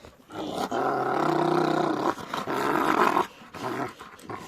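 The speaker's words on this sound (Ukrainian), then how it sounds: "Кажуть, заставляю пса злиться" A dog growls and snarls angrily in loud, sustained rumbling bursts with brief pauses between them, close to the listener.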